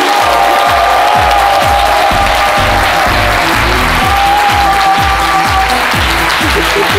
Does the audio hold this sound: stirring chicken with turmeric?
no